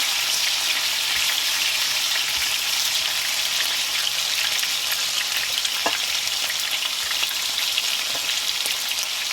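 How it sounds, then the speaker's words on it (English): A loud, continuous sizzle and crackle of turkey pieces browning in very hot oil for curry, steady throughout with no one speaking. "making sure the oil is very hot and putting it on the bottom and just spreading it out"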